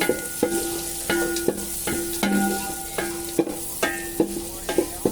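Prawns sizzle steadily in a pan for a basanti pulao with jackfruit seeds, while a spatula scrapes and stirs in a regular rhythm of sharp strokes about once a second, close and clear with no talking.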